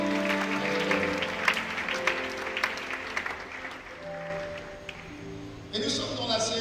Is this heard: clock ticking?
no